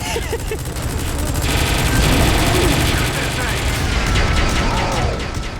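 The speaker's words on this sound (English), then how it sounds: "Gonna see if I can do this with a minigun" A minigun fires in the video game Metal Gear Solid V, with a dense, rapid stream of gunfire, continuous and loud, plus booming impacts, while a voice talks over parts of it.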